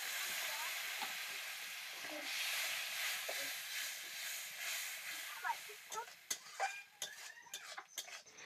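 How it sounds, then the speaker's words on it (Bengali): Spice paste sizzles in a pan as a little water is added while cooking an egg and potato curry, a broad steady hiss that slowly fades, followed by scattered utensil clinks and scraping. "এবার একটু অল্প পরিমাণে আমি জল দেব।"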